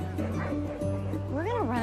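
A small dog yips and whimpers in short, high bursts over a steady hum, with people talking nearby.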